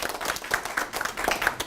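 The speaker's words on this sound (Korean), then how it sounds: "박수 한번 쳐 줍니다" A short burst of scattered clapping from a small group of middle school science students in a classroom, brief and moderately loud, with no talking over it.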